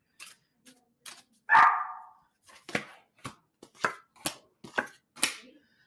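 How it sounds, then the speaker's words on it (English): Neighbor's dogs barking in a string of sharp, separate barks, one louder and fuller than the rest, spaced at a fairly regular pace, with quiet between them. "As the dogs bark from the neighbor."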